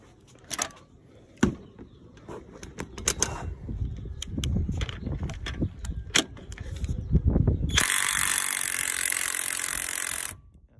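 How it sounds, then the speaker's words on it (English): A torque wrench tightens a bolt to 100 foot-pounds with scattered close ratcheting clicks and knocks, followed by a steady, loud burst of a cheap Chinese impact wrench running for a few seconds. "we're gonna torque this bolt down to 100 foot-pounds"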